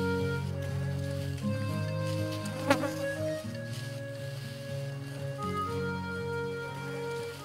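Honeybees buzzing on a farm property in Brazil's semi-arid region, a steady mid-level drone of insect wings with overlapping tones and one brief sharp click, no voices.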